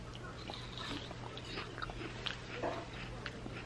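Someone bites into a sweet yellow opal apple topped with sugar-free caramel sauce, faint crunches and chewing heard close by over a low steady hum.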